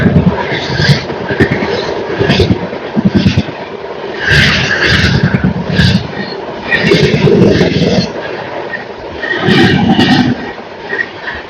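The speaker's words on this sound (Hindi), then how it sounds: "14010 आनंद विहार चंपारण सामने से आ रही है" An Indian express train, the 14010 Anand Vihar–Champaran service, rumbles past at close range with rolling wheel noise and clattering surges over about eleven seconds, loud and continuous.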